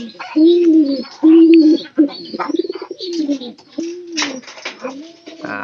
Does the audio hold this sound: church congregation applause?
no